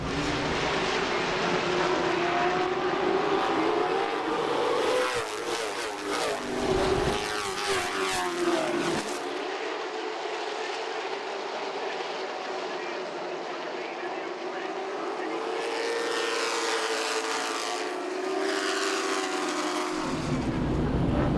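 Late model stock cars race at Langley Speedway, engines roaring loud and continuous with passing surges, under steady talk from an announcer.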